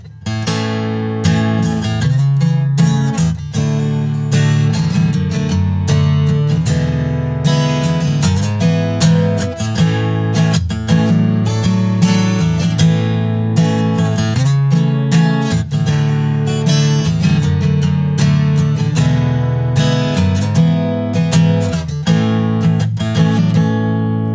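A guitar strums through a chord progression in A, chords changing steadily in a continuous rhythm, close and clear with no voices.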